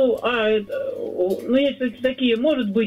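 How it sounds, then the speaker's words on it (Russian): Domestic pigeons kept in a dovecote cooing in soft repeated throaty calls close by, heard beneath someone speaking Russian. "Голуби у нас летают,"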